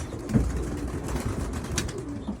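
Soft, low pigeon coos rumble faintly through a dull background hum. A few muffled thumps and flutters sound nearby, and nobody talks.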